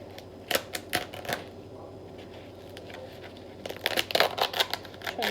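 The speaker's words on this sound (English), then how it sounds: "then you'll take a knife. I prefer the serrated blades for this, and then you just cut them to size." A serrated knife sawing through dried luffa, giving quick rasping scratchy strokes in two bursts, close and moderately loud with a quieter pause between.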